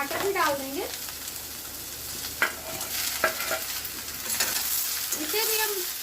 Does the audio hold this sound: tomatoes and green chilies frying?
yes